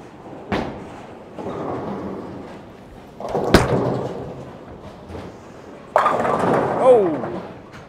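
A Storm Phaze bowling ball rolls down a bowling alley lane with a long low rumble and then crashes into the pins with a sharp, loud clatter, while other heavy thuds and background noise of the alley surround it.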